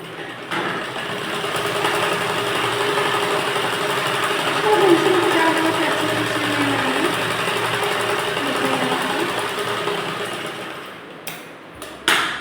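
A sewing machine runs steadily while stitching a blouse, a continuous close mechanical whir lasting most of the stretch before stopping near the end with a couple of clicks.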